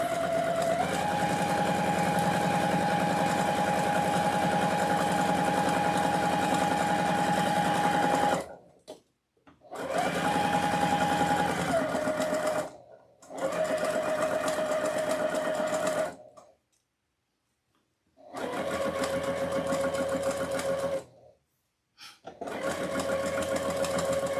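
A sewing machine stitches a red and black striped witch Halloween wreath attachment, running in several steady motorized bursts with brief pauses between runs, slowing at times, close and loud with no talk.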